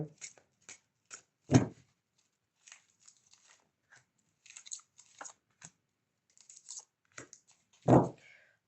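Tarot cards handled during a weekly astrology reading: a few sharp, close card snaps and shuffles, two louder ones, scattered among soft taps and rustles, with no talk over them.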